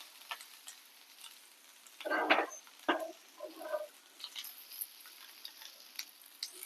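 Garlic, green chilli and a little ginger drop into hot oil for a restaurant-style chilli paneer, giving short bursts of crackling sizzle with scattered ticks and faint stirring scrapes, fairly quiet overall.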